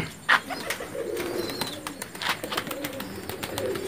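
Madrasi pigeons, a mix of young and grown birds of Pulsar breed and Arshad line, giving low repeated coos nearby, opening with a brief sharp chirp.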